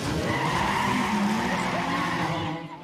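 Cars in a racing video game skidding and revving, a sustained loud tire squeal and engine whine over a continuous roar that eases off near the end.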